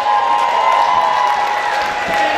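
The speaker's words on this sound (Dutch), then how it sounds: "Uw applaus voor Lisanne Schonebeek." Audience applause and cheering fills a hall at a 2013 sports awards evening as the sports talent winner is announced, a steady dense wash of clapping with crowd noise, close and loud throughout.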